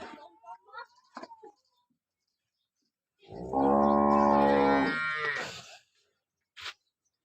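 A freshly calved dairy cow in Tharad taluka, Banaskantha, lets out one long, loud, close moo lasting over two seconds, preceded by a few soft clicks and faint voices and followed by a brief knock.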